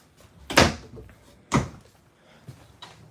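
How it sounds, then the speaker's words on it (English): The sliding door of an RV rear bunk room rumbles along its track in two loud, close strokes about a second apart, followed by a few fainter knocks. "So you've got your sliding door."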